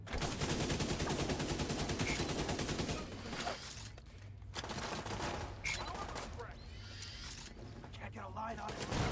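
Sustained rapid automatic gunfire from a deployed turret in The Division 2, continuous and loud at first, then thinning into scattered bursts, with a voice talking over the shooting.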